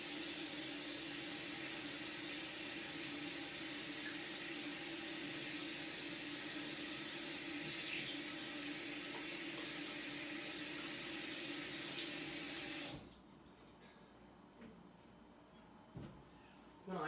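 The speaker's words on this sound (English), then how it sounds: "let me wash my hands off real quick." A kitchen sink faucet runs steadily as hands are washed, a constant hiss of flowing water that stops abruptly near the end, leaving a quiet room with a few faint clicks.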